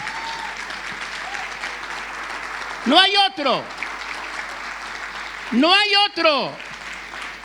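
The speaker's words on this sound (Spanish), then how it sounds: "Si le va a aplaudir, apláudale con ganas al Señor" A church congregation bursts into applause twice, each round a couple of seconds long, between stretches of a preacher speaking Spanish over a quiet room hum.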